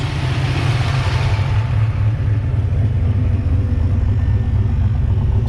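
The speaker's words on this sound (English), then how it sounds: "there's a reason why we left the car running" A car left idling with an old, crusty turbo found under a bench, warming up to temperature; a steady low engine rumble runs continuously and close, with no talk.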